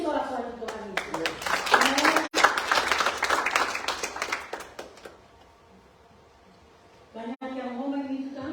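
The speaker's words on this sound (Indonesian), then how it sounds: "Beri sorak-sorai Tuhan Yesus" A church congregation at a Sunday service claps and cheers for Jesus, with dense, lively applause for about five seconds before it fades and a voice takes over.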